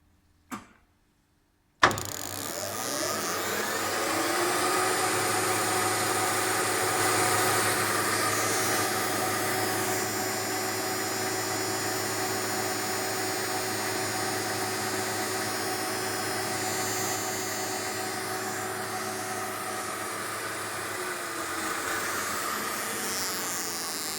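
A 12-volt DC CDI ignition with Hall switch triggering, driven by a lathe at 2,000 RPM, fires about 18,000 sparks per minute. A brief click comes first, then a steady, loud buzzing drone runs unbroken to the end.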